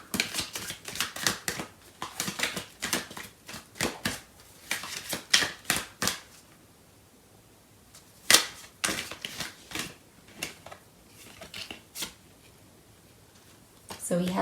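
Tarot cards being shuffled and handled, bursts of crisp rapid riffling and slapping clicks in uneven clusters with short pauses between, fairly quiet and close.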